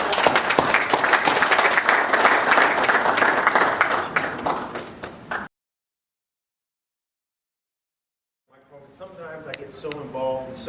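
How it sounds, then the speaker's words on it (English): Audience applause welcoming a speaker at a men's church leadership conference, a dense, loud wash of clapping for several seconds that cuts off abruptly, followed after a silent gap by someone speaking. "Let's give him a round of welcome, please."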